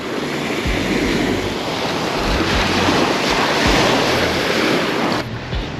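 Sea waves rolling onto a long, wide Pattaya beach with yellowish sand, a steady loud wash of surf mixed with wind noise, no voices.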